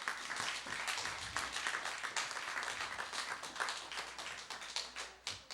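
A church congregation claps together in praise, a fairly quiet, rhythmic patter of many hands continuing steadily with no speech over it.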